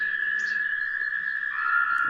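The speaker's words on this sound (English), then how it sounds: "This here is the American toad, this trill." An American toad gives a long, steady, high trill that runs through the whole clip without a break. It is loud and clear over a quiet pond background.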